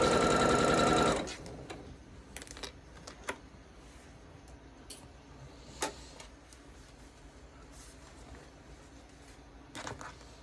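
A sewing machine chain-piecing 1.5-inch fabric scraps for an Irish chain quilt runs in a loud, steady whir for about a second, then stops, leaving scattered light clicks and taps close by.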